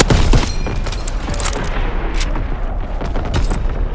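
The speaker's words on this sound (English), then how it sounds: "incoming enemy artillery." Enemy artillery fire in Call of Duty WWII on PS5: a steady roar of overlapping booms and blasts, loud and close, with sharp impacts punctuating a continuous rumble.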